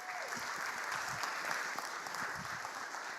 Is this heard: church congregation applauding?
yes